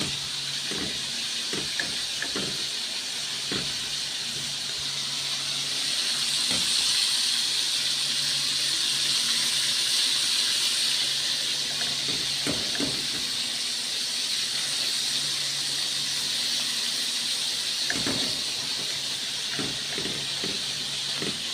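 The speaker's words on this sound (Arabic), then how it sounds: "وادي السمك اهو بيتقلي." Fish fillet frying in hot oil for an Egyptian sayadeya rice dish, a continuous close hissing sizzle with scattered sharp pops and crackles throughout, no voices.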